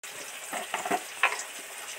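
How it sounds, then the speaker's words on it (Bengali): Onions frying in a pan give a soft, steady sizzle, joined by a few brief clinks and scrapes as they are stirred, heard close with no talking. "এদিক তো পেঁয়াজটা সব সব করে ভাজা হচ্ছে"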